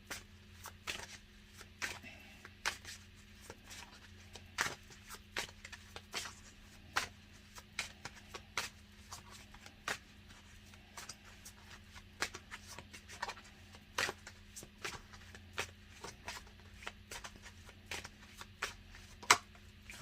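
Tarot cards being shuffled and handled up close, a long run of crisp clicking snaps and riffles at an irregular pace, quiet and alone over a faint steady hum.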